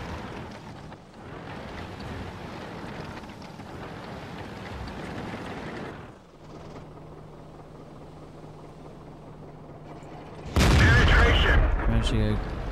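A tank cannon shot slams into a KV-1 in the World of Tanks video game: a steady engine drone and rumble, then one sudden, loud, close blast that rings on through the final seconds.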